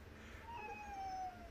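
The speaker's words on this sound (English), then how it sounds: "yes, my kitty cat, Mr. Eli." A pet cat gives a single drawn-out meow with a rising then falling pitch, soft and slightly distant against a quiet room.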